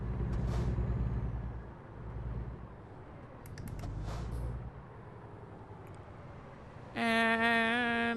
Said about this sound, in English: And slam on the brakes.